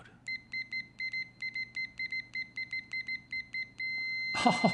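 A UNI-T UT39C+ multimeter in continuity mode gives a rapid series of short, clear electronic beeps as the probe tips tap together, ending in one sustained tone before a rustle of handling.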